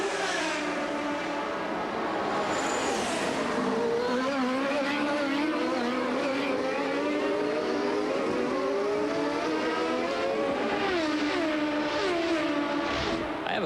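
CART Indy race cars circling the Surfers Paradise street circuit in 1991, engines wailing and rising and falling continuously as cars pass through a chicane, a dense loud roar with shifting pitch throughout.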